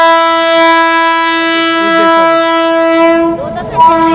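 An approaching train's loud, sustained horn blares for about three seconds at a level crossing, then cuts off, leaving rumbling rail noise and faint voices nearby.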